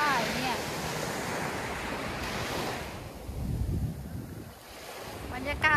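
Sea waves wash in at Gwanga beach in a continuous, rolling surf. Strong wind buffets the microphone, and the wash swells and eases near the end.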